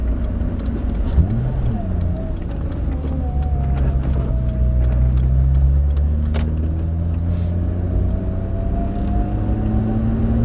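A Mazda Miata with a swapped-in Honda V6 engine drones steadily while driving, a loud continuous engine rumble with rising and falling pitch as it pulls.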